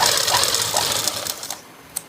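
A sewing machine runs a double stitch on a blouse in a fast, close, whirring burst that slows and stops after about a second and a half, followed by a single sharp click.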